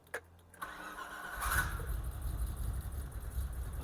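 BMW E30 325i cabrio engine starting roughly: a brief starter crank, then the engine catches and settles into an uneven, lumpy low idle, close and moderately loud.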